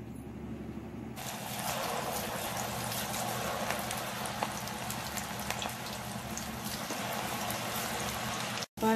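Cauliflower pieces deep-fry in hot oil, a steady bubbling hiss that rises suddenly after a quiet start and keeps on with dense crackling pops until a short thump at the end.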